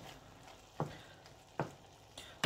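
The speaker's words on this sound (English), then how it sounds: "Time to chuck in the mushrooms." Mushrooms go into a frying pan of chilli con carne, a faint steady sizzle broken by a few soft thumps and stirs, quiet and close with no talk.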